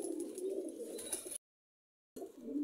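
Lakha high-flyer pigeon, a breeder male, cooing in soft low repeated calls, close and clear, broken by a brief silent gap before resuming.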